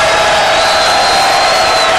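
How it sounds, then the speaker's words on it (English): A college basketball crowd roars and cheers in an arena during an exhibition game, a loud, sustained wall of noise with no break. "The crowd really did come to life here as Dowe."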